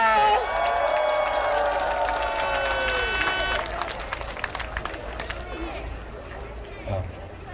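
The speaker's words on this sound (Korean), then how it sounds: "힘찬 박수로 맞이해 주십시오." An indoor audience bursts into sustained, loud applause and cheering to welcome a speaker at a Korean election-day rally, with crowd voices mixed in before the clapping thins toward the end.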